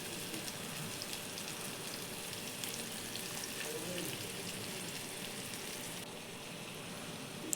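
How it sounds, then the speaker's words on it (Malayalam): Ingredients for a Kerala-style chicken curry fry in hot oil, giving a steady, soft, even sizzle throughout, fairly quiet and close, with faint background voices. "നമുക്ക് ബാക്കിയും കൂടെ വറക്കാനുള്ളതും കൂടെ നമുക്ക് ഇട്ട് വറുത്തെടുക്കാം."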